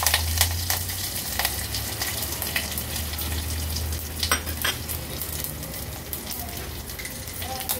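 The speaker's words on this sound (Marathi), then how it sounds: "राई, जिरं, लसूण, मिरची, सुकी मिरची, कढीपत्त्याची पानं ही फोडणीला घालूया" Mustard seeds, cumin, garlic, green and dry chilies and curry leaves sizzle and spit in hot ghee, a steady loud frying hiss with scattered sharp pops, heard alone.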